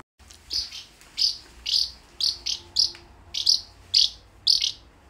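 A parakeet chirps repeatedly, about ten sharp bright calls at a fairly regular pace, close and alone against a quiet background.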